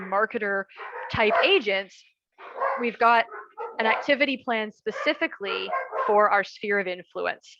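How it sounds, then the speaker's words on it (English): Dogs bark at home, with a few sharp woofs and yips breaking through a man's steady, close talking and partly buried beneath his voice. "Pardon the dogs"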